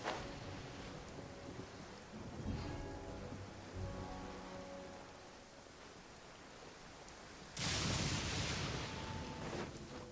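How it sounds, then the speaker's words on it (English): Steady rain hisses in the Genshin Impact game world, broad and even, with a sudden louder surge of downpour or thunder crack near the end. "Oh, I don't like the rain."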